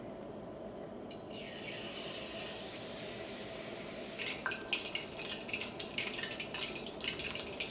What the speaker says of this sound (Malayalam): ഇതെടുത്ത് ചൂടായ എണ്ണയിലേക്ക് ഇടാം.